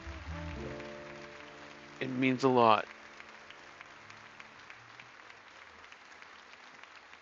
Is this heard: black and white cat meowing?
no